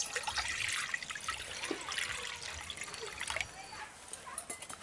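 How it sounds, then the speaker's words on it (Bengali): Water poured into a kadai set on a lit stove before cabbage is cooked, a steady splashing trickle running through the clip at moderate volume, with faint voice-like sounds in the background. "এখন জল দিয়ে দিচ্ছি।"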